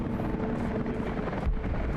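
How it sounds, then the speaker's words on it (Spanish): Helicopter departs in Rise of the Tomb Raider, a dense, loud rotor rumble and wash with a faint voice under it. "el último helicóptero partió"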